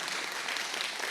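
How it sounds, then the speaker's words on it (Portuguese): Congregation clapping in a church during a vocational conference service, a dense, steady wash of applause filling the room for about a second. "vou pedir para que dê uma salva de palmas linda para Jesus"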